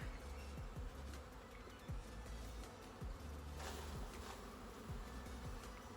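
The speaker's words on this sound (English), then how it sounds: "A mass of bees, they'll stick together." A mass of honeybees being shaken off a hive frame onto a board for a varroa mite sugar shake test, giving a steady loud buzzing drone with repeated thumps from the shaking throughout.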